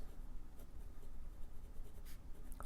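A fountain pen scratches softly across paper, a faint, steady scribble of small strokes with a few light taps, quiet and close with no one speaking.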